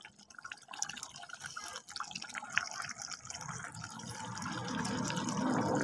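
Pieces of meat and potatoes tumble into a pan of fried spices, wet clattering and dripping sounds building into a rising steady sizzle that grows louder toward the end.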